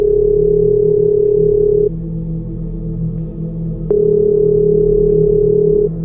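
A telephone rings in a steady electronic tone, sounding for about two seconds, pausing, then sounding again for about two seconds over a constant low hum, loud and close, with no talk.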